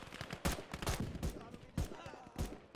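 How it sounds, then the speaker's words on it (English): M1 Garand rifle gunfire in a WW2 real-time strategy battle, a burst of sharp cracking shots at irregular intervals mixed with distant battlefield rumble, fairly faint in the game mix. "The Garand sound, by the way, I don't know if it's accurate"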